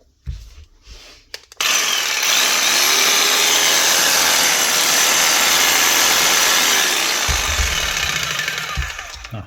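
A repaired Makita power tool starts up after a few quiet knocks and runs loudly and steadily with a whirring, grinding motor, then winds down near the end.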